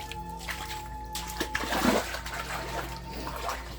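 Someone wades through knee-deep floodwater, producing a burst of close splashing and sloshing over a steady background hum, with murmured voices around it.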